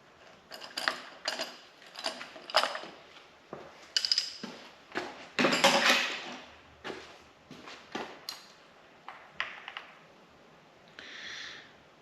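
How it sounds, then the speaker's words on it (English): A 14mm socket on a ratchet removes spark plugs from a Mazda engine, giving irregular metallic clicks and clatter, quiet and close, in short bursts with brief pauses. "So I'm just using a 14mm socket here, and I'm going to go down there with a magnet"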